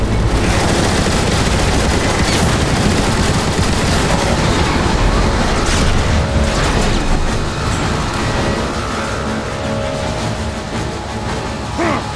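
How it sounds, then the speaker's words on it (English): Decepticon turrets fire nonstop in the Transformers War for Cybertron video game, a loud, dense barrage of gunfire and booms that holds for the whole stretch and eases slightly toward the end. "Decepticons, man the turrets and blast that obsolete Hulk out of the sky!"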